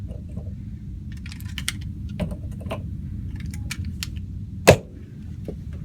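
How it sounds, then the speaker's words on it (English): Pistol rounds being pressed one at a time into a magazine during a range drill, producing a string of small, close metallic clicks and taps with one sharper snap near the end, over a low background rumble. "Gotta top this mag off real quick."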